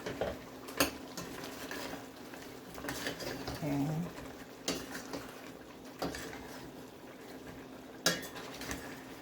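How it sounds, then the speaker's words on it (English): Chopped green onion and fresh thyme are stirred into oxtail in a pot, with several sharp metal clanks of the spoon against the pot and quieter scraping between them. A person talks over the stirring. "So let's stir that in."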